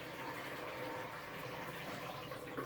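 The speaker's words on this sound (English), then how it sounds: "pour this into one bucket" Liquid, likely fuel from a siphoning run, pours steadily into a bucket, a continuous close splashing and gurgling stream with no speech.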